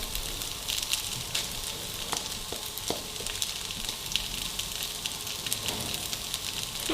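Leftover boiled rice with coriander leaves warms in a pan, giving a steady low sizzle with a few faint clicks and scrapes throughout, close and quiet, with no talking.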